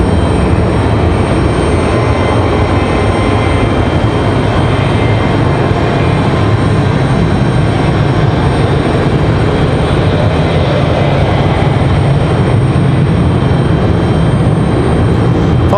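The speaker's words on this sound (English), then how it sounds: "This is Southwest 3051 headed off to Chicago Midway. 737-800." A Southwest Boeing 737-800 airliner bound for Chicago Midway roars with a loud, steady engine rumble at Raleigh-Durham International, the broad jet noise holding constant throughout with no voices.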